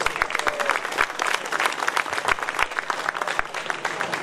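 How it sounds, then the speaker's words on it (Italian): An audience at an evening event featuring town bands claps in steady, dense applause, close and continuous throughout the few seconds, with no voices over it. "Un applauso."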